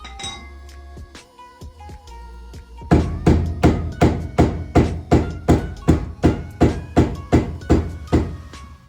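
After a few light metallic clinks, a hammer strikes a Mazda Miata car part over and over in a steady rhythm, loud ringing blows close by.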